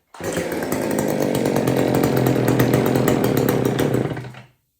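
An old Homelite 150 Automatic or McCulloch 610 chainsaw running on partial choke, with a loud, steady, buzzing two-stroke drone held close for about four seconds before it cuts off abruptly.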